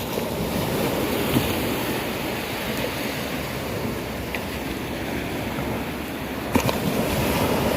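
Sea waves roll and wash steadily onto a beach, a continuous broadband surf roar with light wind across the microphone and a slightly louder wave break near the end, no talking.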